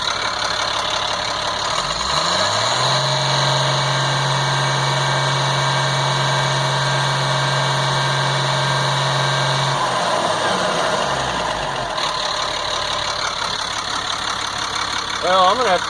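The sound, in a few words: 1998 GMC C8500 Caterpillar 3116E diesel truck engine idling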